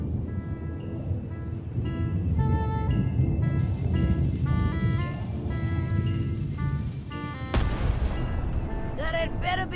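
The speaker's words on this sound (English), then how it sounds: "For cannon firing." Cannon fire in the Return to Monkey Island video game: a single sharp boom lands late in the clip beneath steady, tuneful game music.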